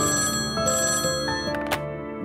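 A telephone rings in a hospital drama scene, a steady electronic ring repeating close by and fairly loud with no talk over it, before someone answers.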